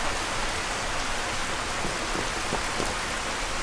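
Steady rain falls in the Skyrim VR game world, a dense hiss of drops with no let-up, occasional faint patters standing out, and no voices over it.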